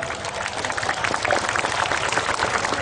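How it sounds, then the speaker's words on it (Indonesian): Applause from the audience at a Ringinagung Bersolawat religious gathering, honouring the organisers and the Garda Terate group of the regency: a dense, steady wash of many hands clapping at once, loud and sustained throughout. "Sekali lagi tepuk tangan untuk panitia dan untuk Garda Terate Kabupaten Akitan."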